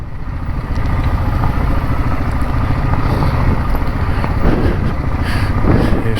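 A motorcycle engine idles steadily nearby with a continuous low rumble while it is being parked, loud and unbroken with no talk.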